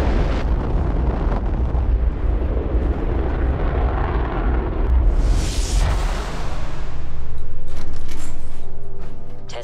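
A deep, rumbling explosion from a weapon test firing in Fallout 4, a long roar that swells and bursts midway, then fades into a smoother sustained whoosh with faint ringing tones.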